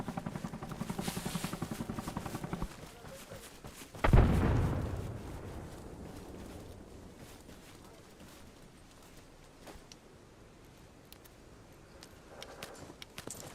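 A grenade explodes in a shooter video game: one sharp, close blast with a rumbling decay, set among quieter gunfire and footsteps and some player talk.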